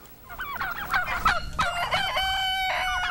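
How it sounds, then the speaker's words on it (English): A rooster crows loudly and close by, one long strained cock-a-doodle-doo with rising and falling calls, followed by a sustained tonal honk-like note. "His first post-apocalyptic crow."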